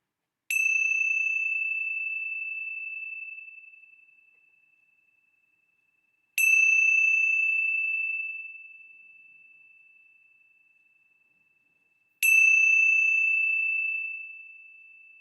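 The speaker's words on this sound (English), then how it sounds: "Let's begin our time with the ringing of the bells." Three clear bell strikes spaced evenly apart at a Veterans Day service, each ringing out and slowly fading before the next, with silence otherwise.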